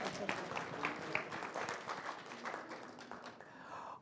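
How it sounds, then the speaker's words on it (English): Audience applause at the CCFC 2023 event, a crowd clapping for the tech guy: dense, steady, close-sounding claps lasting a few seconds and easing slightly at the end. "Please clap for the tech guy."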